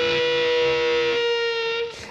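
Fuzz-driven electric guitar sustains a double-stop bend, a thick, buzzing held tone that swells and then cuts off near the end, loud and alone.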